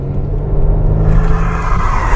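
A Mercedes-Benz GLC 300 Coupé 2020 with a 2000 cc turbo engine under kick-down acceleration, a close, steady low rumble building briefly from inside the cabin.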